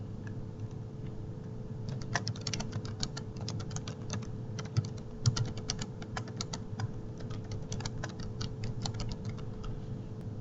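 Steady, close typing on a computer keyboard runs throughout, with quick irregular key clicks over a low electrical hum and no talking.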